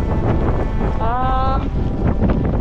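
Strong wind gusts roar across open terrain, buffeting the microphone continuously, with a brief tonal whine in the middle.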